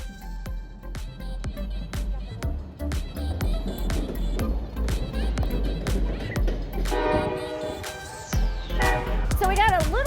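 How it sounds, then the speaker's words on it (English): A train rolls past near a rail yard with rhythmic clacks of wheels over rail joints and a blaring horn toward the end, close and loud, while people talk over it. "So we got a little distracted by the train that came through."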